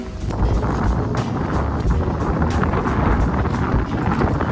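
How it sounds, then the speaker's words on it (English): Gusty wind buffets the microphone beside a shallow creek, a steady low roar with rushing broadband noise that fills the whole moment without letup. "Windy."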